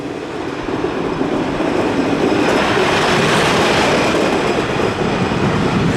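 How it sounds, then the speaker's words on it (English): A roller coaster's first test train of the day runs at Parc Saint Paul, giving a steady, loud rumble and rattle of wheels on track that swells slightly midway and carries on throughout with no talk. "First test train, it looks like, of the day"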